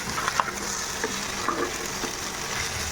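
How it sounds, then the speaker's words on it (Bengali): Steady oily sizzling of small fish frying in a pan fills the clip, with a few soft clicks of stirring, close and continuous with no voices. "একদম ভাজা ভাজা হয়ে গেছে, ঝরঝরা ভাজা ভাজা মাছ হয়ে গেছে"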